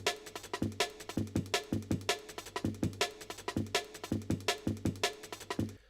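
Drum break sliced and retriggered by a MIDI clip for jungle production, crisp snares, kicks and busy hi-hats repeating in a rapid syncopated groove, loud and upfront with no talk.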